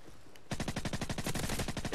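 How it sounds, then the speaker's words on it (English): Sustained automatic gunfire in Call of Duty 4, a rapid close burst of evenly spaced shots that starts abruptly after a short quiet lead-in and keeps going loud to the end. "somebody's shooting me"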